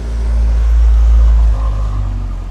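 A car coming up from behind on a road in Florida, a loud low rumble that swells and then eases as it draws close and goes by.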